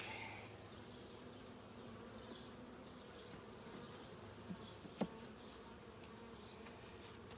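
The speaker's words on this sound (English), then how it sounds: "One bee just does not want to get out of the way." Honeybees buzz around an open package hive box during an inspection, a soft, continuous hum from many insects with a couple of brief nearby clicks.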